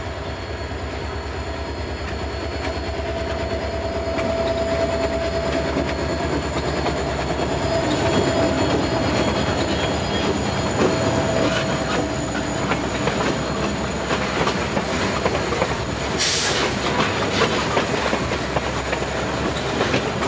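A CSX freight train rolls past without stopping on the Clearwater Subdivision near Tampa, its wheels beating a steady clickety-clack over the rails with a brief high wheel squeal partway through; loud and close, with no talk.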